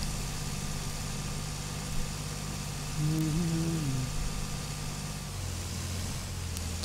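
A Swaraj 855 tractor engine in Farming Simulator 22 idles with a steady, low rumbling drone throughout, and a brief tonal whine rises and falls in the middle.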